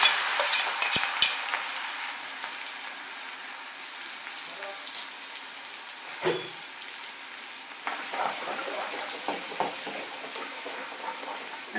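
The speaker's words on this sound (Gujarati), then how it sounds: "અને આદુ લસણ સતારાઈ જાય એટલે તેમાં ડુંગળી નાખી દઈશું." Ginger garlic paste sautés in a pan with a soft, steady sizzle, broken by a few sharp clicks and scrapes of a spoon stirring, and no talking.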